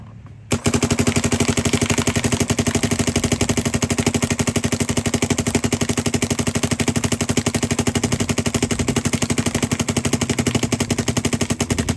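Dye MXR paintball marker firing a long, rapid full-auto string, a steady loud mechanical rattle of evenly spaced shots running for about eleven seconds without pause, close to the listener.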